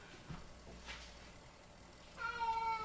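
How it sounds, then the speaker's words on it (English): A domestic cat meows near the end, a clear drawn-out call with rising and falling pitch, after faint background noise and small rustles in an indoor home setting. "What do you want, cat?"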